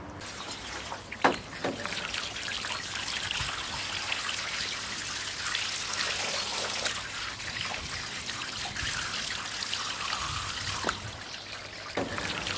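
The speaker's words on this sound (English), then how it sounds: "we simulate a strong infestation of fir needles and rinse them with water down on the DaRi system" Water rinses a heavy layer of fir needles off a DaRi rainwater drainage system, a steady, fairly loud trickling and splashing flow that runs continuously with a few brief clunks.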